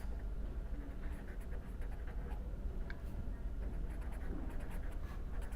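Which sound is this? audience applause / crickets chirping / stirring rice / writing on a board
writing on a board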